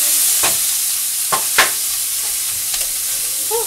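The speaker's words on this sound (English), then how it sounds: "I have my cabbage back here, and I'm burning it." Cabbage frying and charring in a pan while dinner with pork chops gets started, giving a steady soft sizzle with a few faint stirring scrapes and clicks, no one speaking.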